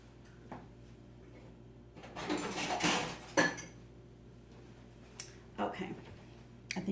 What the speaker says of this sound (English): Let me get a knife.